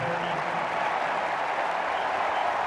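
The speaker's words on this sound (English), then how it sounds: "This crowd getting warmed up again." A college football stadium crowd during a Washington vs Indiana game roars in a steady, loud wash of cheering and applause that holds evenly throughout, with no clear speech on top.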